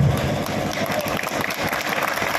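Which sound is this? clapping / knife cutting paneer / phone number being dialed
clapping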